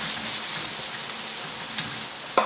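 Grated zucchini fritters frying in a pan over medium heat, a steady even sizzle and hiss with a small clink near the end.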